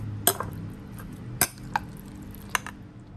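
A few sharp clinks of a utensil against a bowl while Thai fermented fish chili paste is mixed, scattered light taps over a low steady background, close by.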